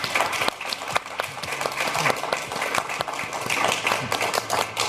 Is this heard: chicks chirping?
no